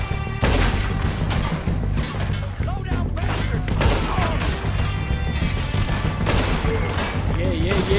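Gunfire in the video game Red Dead Redemption 2, dense rapid shots and booms in a steady loud barrage, with game music and a voice talking over it.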